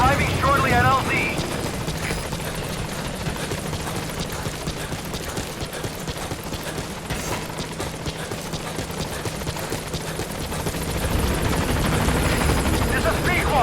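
Helicopter in Metal Gear Solid V: The Phantom Pain approaching a landing zone, a steady whirring rotor drone with rumbling low end that swells louder toward the end, with game sound effects mixed in.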